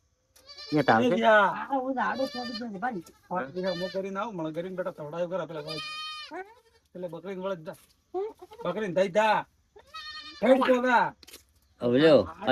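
A herd of goats bleats repeatedly and loudly up close, several overlapping calls in irregular bursts.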